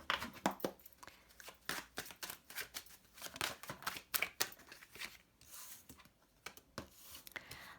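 Tarot cards are shuffled by hand in quick, close, crisp riffling bursts that sound faint and near, with no talk over them.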